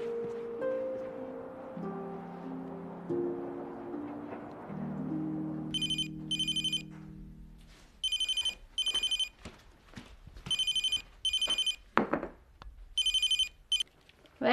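A telephone rings with a bright electronic trill in about five evenly spaced double bursts, loud and close, following a short stretch of soft background music.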